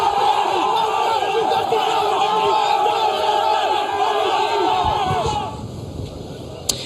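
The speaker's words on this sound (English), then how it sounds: "fans cheering, waving flags, blocking the streets and lighting fireworks" A large crowd of fans cheers in the street outside Dodger Stadium after a World Series win, with a dense continuous roar of shouts and whoops that drops off near the end.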